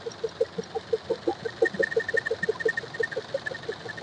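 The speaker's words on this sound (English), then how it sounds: "1ZZ normal engine as usual, and you can see engine is rattling continuously" A Toyota 1ZZ engine idles with a continuous rhythmic rattle, a quick steady ticking pulse repeating close by at moderate volume with no talking.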